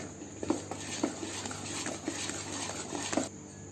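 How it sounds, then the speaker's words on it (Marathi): Appe batter being stirred in a bowl with a spoon after a spoonful of lemon salt goes in, giving faint repeated scraping clicks at a steady pace over a low background hum. "आता यामध्ये 1 चमचा आपण निंबू सत्व टाकणार आहे। चांगलं मिक्स करून घेऊया।"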